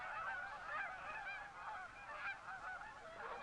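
Canada geese assembling in winter set up a constant clamor of overlapping honks, a thick wash of many birds calling at once, steady and somewhat distant throughout.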